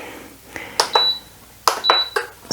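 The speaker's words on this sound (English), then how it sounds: "I need to put my induction hob on." An induction hob in a home kitchen gives short electronic beeps as it is switched on, a few distinct tones in quick succession close by.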